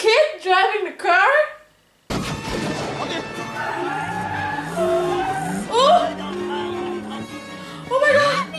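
A car driven by a kid in the 1984 film Indiana Jones and the Temple of Doom screeches in long tire squeals over engine noise and crashes, following a burst of excited shouting and interrupted by scattered voices.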